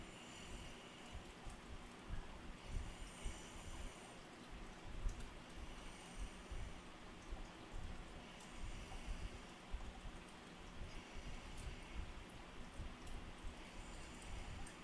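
Rain falls steadily for a long stretch, a soft, dense patter of drops hitting surfaces at a distance, quiet and continuous with no voices.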